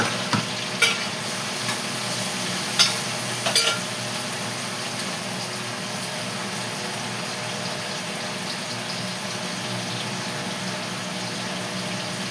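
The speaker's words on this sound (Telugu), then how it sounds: "ఇప్పుడు ఆనియన్స్ పచ్చిమిరపకాయలు వేసేస్తాము." Onions and green chillies fry in a pan, giving a steady, even sizzle throughout, with a few sharp clinks from a utensil early on.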